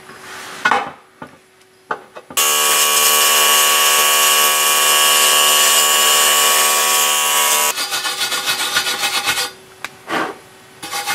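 A welder runs on aluminum at the wrong setting, making a loud continuous harsh buzzing crackle for about five seconds, then a stuttering, sputtering arc before it cuts out amid handling clatter.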